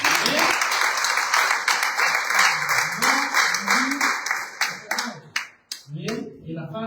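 A church congregation applauds during a Spanish-language sermon. Dense clapping and voices hold for several seconds, then thin out into scattered claps near the end.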